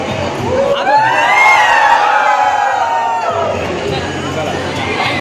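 A crowd of guests shouts and cheers loudly in a long sustained roar at a traditional Konkan engagement ceremony, close and dense, with the shouting easing somewhat after a few seconds.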